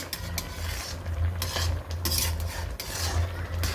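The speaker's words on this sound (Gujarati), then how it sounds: "તો આપણે હવે આને સતત હલાવતા રહીશું" Carrot halwa, sweetened with jaggery, being stirred in milk that has reduced, as a spoon scrapes the pot with repeated rhythmic strokes over a low sizzling bubble, close and clear and with no talk.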